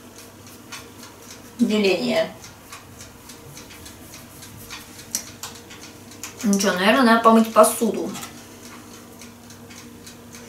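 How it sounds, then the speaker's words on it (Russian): An old alarm clock ticks steadily in a home kitchen, a soft, even rhythm heard throughout while someone speaks briefly twice over it. "И еще у меня тут будильник тикает."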